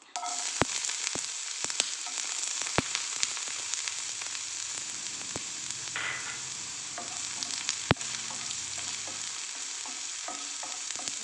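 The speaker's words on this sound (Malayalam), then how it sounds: "ഇനി സവാള ഇട്ട് കൊടുക്കുന്നുണ്ട്." Sliced onions fry in a pan after mustard seeds, a steady close sizzle broken by occasional sharp clicks and scrapes of stirring, with no voices present.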